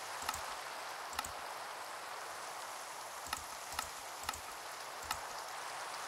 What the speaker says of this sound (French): Regardez cette magnifique pluie.